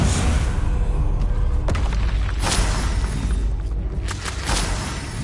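A Bombarda spell explosion in the game Hogwarts Legacy, a loud booming blast with crackling debris and a sustained rumble, several sharp thuds and bursts through a dense, noisy roar.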